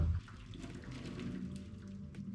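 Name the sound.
straining water from boiled potatoes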